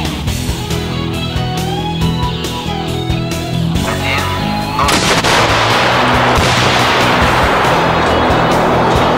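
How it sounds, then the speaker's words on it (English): A PG-29 Vampire anti-tank grenade strikes a steel armor assembly fitted with reactive armor, giving a loud, harsh blast and roaring crackle that builds midway after a stretch of rumbling, layered noise. "For this purpose, PG-29 Vampire anti-tank grenade is used, which can penetrate 750 mm of steel armor behind the era system."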